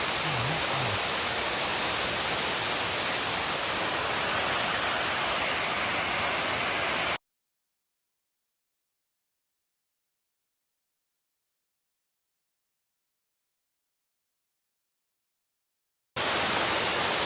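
Mountain water pours down a Smoky Mountains slope past moss and a dead tree, a steady close broadband rush that cuts to silence for several seconds midway before resuming.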